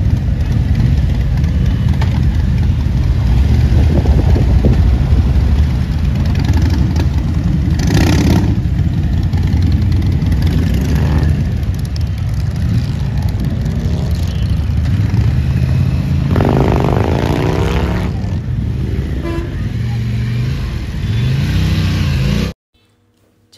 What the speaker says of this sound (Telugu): బైక్స్ అన్నీ ఒక్కొక్కటి ఒక్కొక్క సౌండ్ వస్తుంటే భలే అనిపించింది మాకైతే.